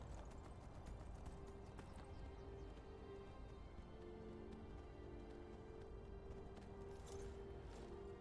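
A donkey's hooves clip-clop at a steady walking rhythm in the video game Enderal, a Skyrim mod, faint and continuous with no talk.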